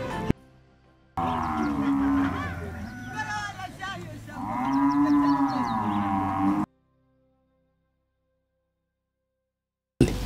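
Dairy cows on a farm in the Ruzizi plain give two long, loud moos in a row, close by, then the sound cuts to silence.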